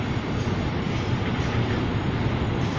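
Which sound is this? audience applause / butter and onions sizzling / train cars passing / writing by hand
train cars passing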